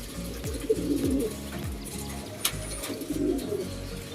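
Several pigeons coo repeatedly at close range in a loft where birds are being nursed back from illness, soft rolling calls overlapping in an irregular rhythm with a few sharper chirps.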